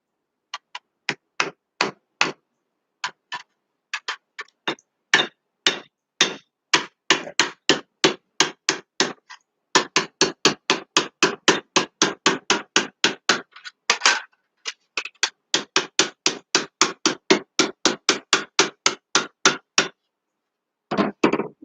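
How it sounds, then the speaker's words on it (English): Hammer peening metal, striking with the peening edge to curl a point over, sharp ringing blows in steady rapid runs with short pauses between series, loud and close with no talking. "So I'm using the peening edge of my hammer to actually curl the point over"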